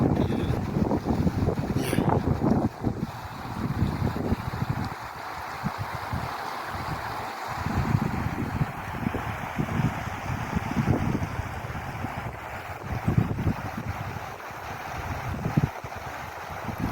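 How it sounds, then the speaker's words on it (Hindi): A strong, cold mountain wind blows hard in Chitral, a loud, continuous gusting roar that surges and eases in waves, with no one talking. "ठंडी हवा चल रही है बड़ी ज़ोरदार"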